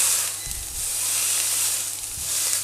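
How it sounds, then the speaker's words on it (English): A plant-based meatball is pressed flat with a spatula in a hot pan, giving a steady sizzle of frying with two soft low scraping presses, moderately loud and close, with no talk. "We're going to pop a meatball into the centre of each. I am now going to flatten with my spatula."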